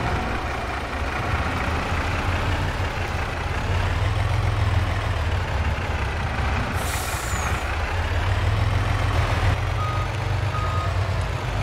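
An old Kenworth A model truck in Farming Simulator 22, its diesel engine idling loudly and steadily for the whole stretch, with a sharp air brake hiss partway through and no talk.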